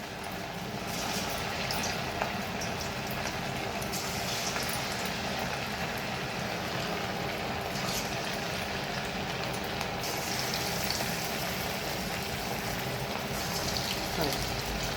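Chicken 65 frying in hot oil with curry leaves added on top, a steady close sizzle and crackle like rain on a surface, continuous throughout while someone speaks over it.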